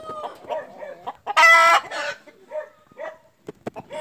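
A heavy rooster with long spurs crows once, loud and close, a harsh drawn-out call that follows and precedes scattered softer clucks and short calls from the same bird, with no voices.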